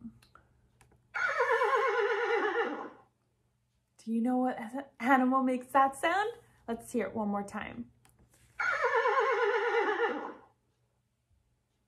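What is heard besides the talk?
horse neighing, played sound effect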